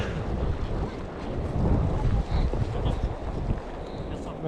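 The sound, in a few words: wind blowing during a snow storm at Scheveningen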